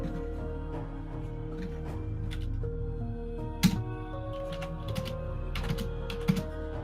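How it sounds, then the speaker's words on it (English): Steady clatter of typing on a computer keyboard during a tabletop role-playing session, with soft irregular keystrokes and a few sharper louder clicks, close by, with no talking. "You're typing in public."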